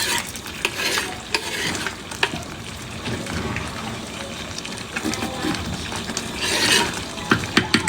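Onions frying in hot oil in a pan, a continuous crackling sizzle with occasional stirring clinks, steady and close throughout.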